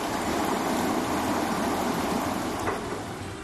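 Flood water rushing through swollen rivers and streams in Gujarat during heavy rain, a loud continuous churning roar of turbulent water, close and steady for a few seconds with no talk.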